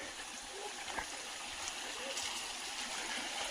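Stream water flowing steadily in the Savoie countryside, a constant close rushing hiss with no pauses, faint and even throughout.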